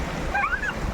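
A small river in the hills rushes past in a steady, close broadband wash, loud and unbroken, with a few faint high chirps briefly over it.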